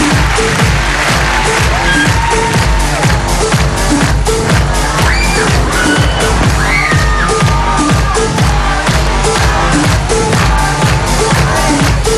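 Girls in a live audience screaming and cheering at a Filipino stage show, a steady loud crowd roar over pounding music throughout.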